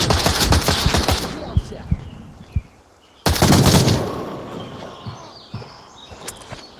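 Rapid automatic gunfire rattles in the VR shooter game Onward, with two loud bursts separated by a brief silence, sharp single shots in between, and faint chirping behind.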